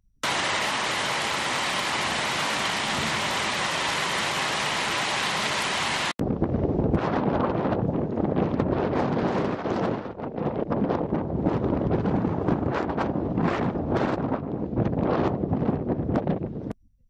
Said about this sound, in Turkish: İlçede şiddetli rüzgarla birlikte zaman zaman da sağanak yağış etkili oldu.